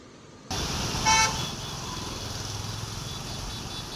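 Slow road traffic on a rain-soaked Mumbai street, a steady engine and tyre rumble with a single short car horn toot near the start, no voices.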